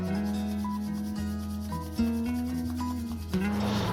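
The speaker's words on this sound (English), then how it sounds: "Now rub your palm, generate heat" Palms rubbed briskly together to build warmth, a steady soft friction hiss running continuously under sustained tonal background music.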